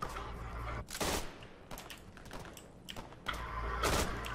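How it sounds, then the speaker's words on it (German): Gunfire rattles in the Day of Infamy video game, sharp bursts of shots and volleys at varying distance, a heavy fusillade near the start and end with scattered cracks between. "Wer schießt denn da auf mich?"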